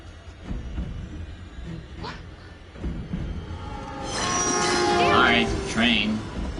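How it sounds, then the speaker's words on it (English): A train rumbles past in the video game Hidden Agenda, growing louder and denser toward the end with a horn-like tone, while characters speak over it. "Alright, train."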